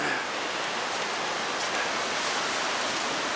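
Steady, dense hiss of heavy rain and gusting wind from Hurricane Ophelia at Cape Lookout, loud and continuous with no talking.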